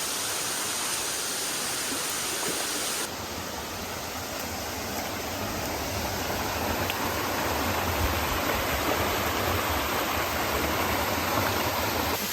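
Gozalandia waterfall in San Sebastián, Puerto Rico, roars as a steady, dense rush of falling water close by, filling the whole clip without a break and growing slightly stronger after the first few seconds; no talking.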